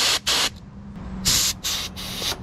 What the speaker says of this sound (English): You can either use a product like this, simple canned air, and go underneath this bumper guard and just spray